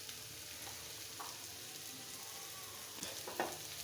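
Bitter gourd fries with onion and green chillies in a pan, giving a soft, even sizzle that stays low and fairly distant, with a couple of faint clicks near the end and no voices.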